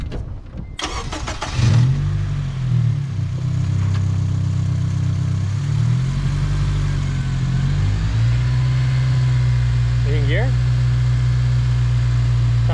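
A car engine starts with a sharp cranking burst, then settles into a steady, loud idle with strong low rumble that holds for the rest of the time, slightly rising near the end, while the car's taillights are being fixed.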